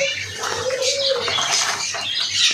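Packed pigeons give low, repeated cooing calls with light rustling and fluttering nearby, steady and moderately loud.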